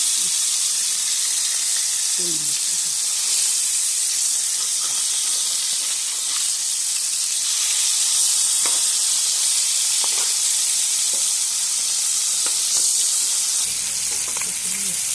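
Bata fish frying in a wok after being flipped, a loud, steady sizzle and hiss throughout, broken by occasional soft scraping or stirring ticks and a brief low thud near the end.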